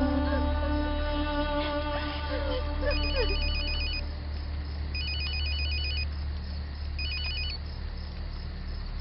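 A mobile phone rings with an incoming call, its electronic ringtone repeating in three short bursts over a steady background hum, fairly close and without talk.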